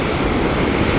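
A strong water current rushes past in a loud, continuous roar, close by and unbroken for the whole second with no voices.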